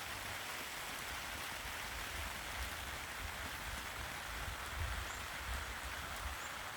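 Soft, steady rain patters continuously at a low level, a faint even hiss with no voices.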